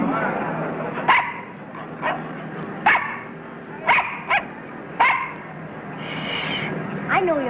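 A dog gives a string of sharp barks and high yips, spaced about a second apart, with whimpering between them and faint voices in the background.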